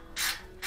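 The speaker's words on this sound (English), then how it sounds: "you turn the Phillips screw clockwise" A Phillips screw driven clockwise into the burner housing of an LG dryer to secure the high limit fuse, giving two short ratcheting, scraping bursts close by, with no talk.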